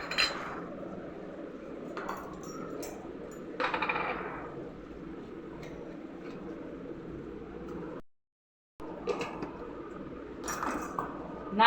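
Sugar spooned out of a container into a bowl in a home kitchen: a few faint, scattered clinks and light taps of utensil against dish over a quiet room, with a brief silent gap near the end.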